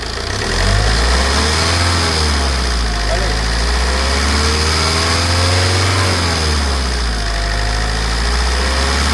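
A Tata Sumo Grande engine idles and then revs as the accelerator is pressed, a loud, close mechanical drone that rises and falls in a couple of swells before settling back.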